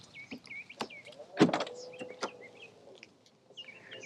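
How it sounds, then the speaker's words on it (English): The automatic doors of a 2024 BMW i7 M60 sedan open with soft motorized whirs and a few sharp clicks and thuds, quiet and close, with faint bird chirps outside. "We also have the automatic doors that will open up for you"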